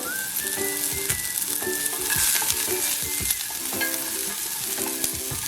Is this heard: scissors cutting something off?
no